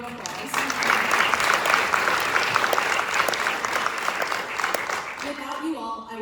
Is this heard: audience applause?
yes